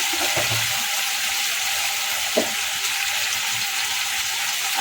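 Bottle gourd sautéing in a pan with green chilli, tomato, turmeric and salt gives a steady, close sizzle throughout, with one brief clink of stirring partway through.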